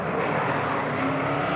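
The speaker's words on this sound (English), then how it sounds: "Big roar from the V8" A V8 race car engine at a Race of Champions event roars continuously at high revs, loud and close, a dense unbroken drone with no voices.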